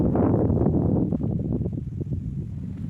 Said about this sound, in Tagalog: Mahangin, malamig-lamig.